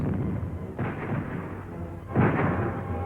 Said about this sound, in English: The enemy counterattacks again and again, hurling shells and hand grenades